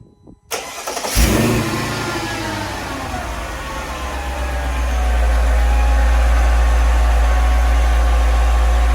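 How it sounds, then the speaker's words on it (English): A Mercedes CLS55 AMG engine cold-starts with a brief cranking burst, catches, and settles into a steady, loud idle that deepens and grows fuller after a few seconds. "So this will be a nice little cold start."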